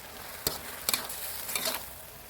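Beef stir-fried with sour pickled bamboo shoots in a pan: a low sizzle broken by three quick, close spatula scrapes at a brisk, uneven pace.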